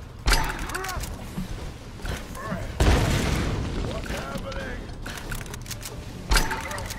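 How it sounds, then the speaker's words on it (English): Grenade blasts in the Tomb Raider video game go off as several loud booming explosions, one near the start, one midway and one near the end, each followed by a rumbling tail. Game sounds and voices mix in between. "I'm gonna grenade you."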